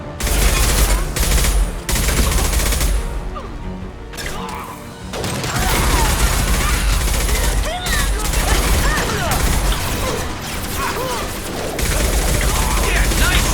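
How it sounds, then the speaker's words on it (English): Rapid gunfire in the Mass Effect video game, dense bursts of shots and crashing impacts filling the scene loudly and continuously with brief gaps, with voices calling out over the firefight. "Yeah, nice shooting!"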